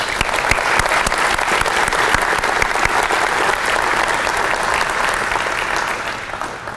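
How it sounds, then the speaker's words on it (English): An audience at a college athletics hall of fame ceremony breaks into loud, sustained applause filling the hall, with steady dense clapping that fades slightly toward the end. "let's also offer them a round of applause for the support of all of you"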